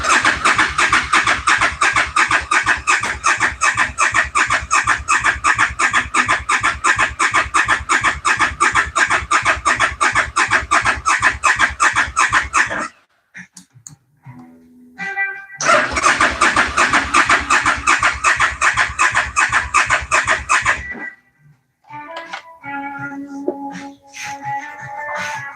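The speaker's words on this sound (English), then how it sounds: "We're cranking fast enough. It should be firing off." Suzuki Volusia 800 motorcycle engine cranking hard and fast in two long, loud, steady bursts without catching, separated by short pauses, with faint clicks and a rooster-like squeal after the second burst.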